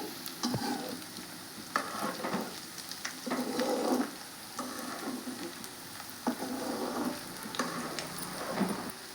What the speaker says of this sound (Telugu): ఒక 5 నిమిషాలండి బాగా ఫ్రై అయిన తర్వాత మళ్ళీ ఈ పాటు ఇట్లా తిప్పుదాము